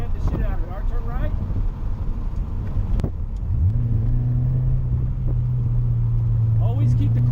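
Car engine revving hard in second gear at an autocross event, a loud steady droning rev rising in pitch midway and holding high, with people talking over it from inside the car.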